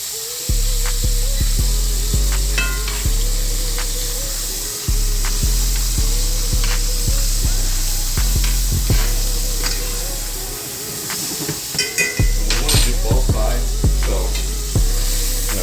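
Butter sizzles steadily in a pan under a tomahawk steak, a constant bright hiss broken by regular low thumps and scrapes, close and fairly loud with no talking.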